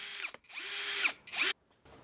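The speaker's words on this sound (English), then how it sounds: "I'm drilling it in place" A power drill bores pilot holes into wood while a DIY TV easel is built, with three short close whirring bursts whose pitch rises and drops as the bit bites, separated by brief silences.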